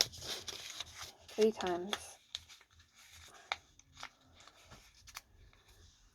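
Paper photographs being folded face to face by hand, giving soft crinkling and rubbing rustles with a few sharp creases, close by, with a brief spoken phrase over them.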